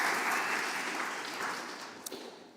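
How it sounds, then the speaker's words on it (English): An audience at a startup demo day claps for a pitching team, a dense, fairly quiet applause that slowly fades over a couple of seconds. "let's have a clap for Maniacs"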